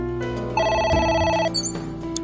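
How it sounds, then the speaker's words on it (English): A telephone rings in the video game AI: The Somnium Files: a loud, clear electronic bell trill that repeats in quick bursts over a soft game background. "It's ringing again."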